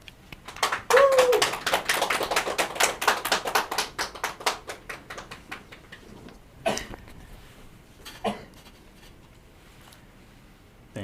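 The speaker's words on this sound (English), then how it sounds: "Please welcome him with a big round of applause." An audience at a public lecture breaks into a burst of applause to welcome a speaker, dense clapping that thins out over several seconds into a few scattered claps, with a short spoken remark at the start.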